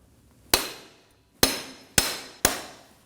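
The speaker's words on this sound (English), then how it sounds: "you're gonna put the pry bar right here and you're gonna tap it with a hammer" Four sharp metallic hammer taps on a pry bar ring out close by, one alone then three in quicker succession, each decaying quickly, while removing a front CV axle on a 2016-2020 Kia Sorento 2.4L.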